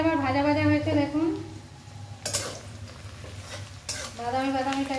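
Onions sizzle in a pan on a home stove while a utensil scrapes and clinks against the metal in a few separate strokes, with a voice talking over the start and end.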